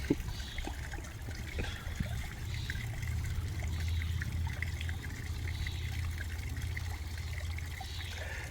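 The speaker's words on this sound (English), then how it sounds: "what an awesome waterfall" A small waterfall in a garden nature pond trickles and splashes steadily, a soft continuous flow of water heard alone at moderate distance.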